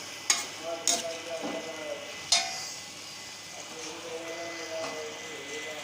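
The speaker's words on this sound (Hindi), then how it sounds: "इसको अच्छी तरह से मिक्स करके ढाँप के 2 से 3 मिनट के लिए पकाएंगे" Spicy chicken biryani masala stirred in a pan, with a few sharp spoon scrapes and clinks against the metal over a soft sizzle, then quieter cooking.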